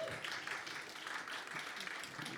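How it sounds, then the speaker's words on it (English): Audience at a stand-up comedy roast in a Bucharest pub breaks into applause, a thin continuous patter of clapping with some voices mixed in underneath. "So big round of applause for her."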